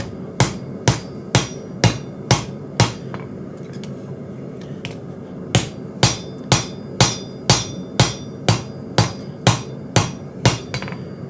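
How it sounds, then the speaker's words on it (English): A hammer strikes Damascus steel on an anvil while a chef's knife with an integral bolster is forged, sharp ringing blows in an even rhythm, close and loud, pausing briefly in the middle before the steady strikes resume. "I'm going to be moving back and forth between the press and the anvil."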